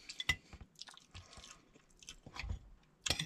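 Crispy fried tilapia is chewed close to the mic. Several loud, irregular crunches and bites are separated by quieter squishy mouth sounds.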